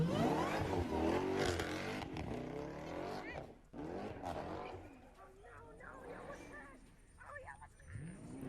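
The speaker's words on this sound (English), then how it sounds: "we got a Trackhawk just ripping it in the sand here" A supercharged Jeep Trackhawk slides and rips through sand, its engine revving loudly in rising and falling surges with whining, squealing tones. Voices talk underneath the engine noise.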